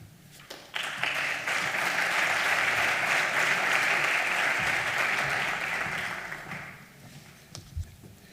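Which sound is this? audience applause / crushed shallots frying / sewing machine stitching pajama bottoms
audience applause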